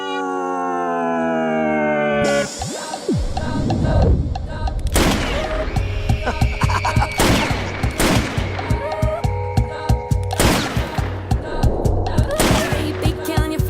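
Gunfire at a wedding celebration, a string of sharp shots and bursts ringing out loudly over music and commotion, with howling sounds in the mix.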